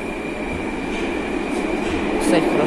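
Moscow metro train of type 81-710 running along the line, a steady loud rumble of wheels and carriage noise throughout with a faint high whine, building slightly toward the end.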